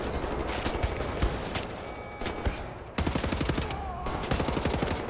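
Dense, sustained gunfire from many weapons in the video game Wolfenstein: The New Order: rapid overlapping shots and bursts, loud and continuous, with a brief lull near the middle before the firing resumes.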